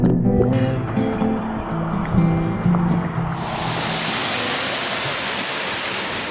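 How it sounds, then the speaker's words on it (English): A waterfall near Byron Bay, Australia, roars loud and close as a steady, dense rush of falling water that takes over after a few seconds of tonal sound. "this waterfall is just so beautiful, and the best bit is there's nobody else here."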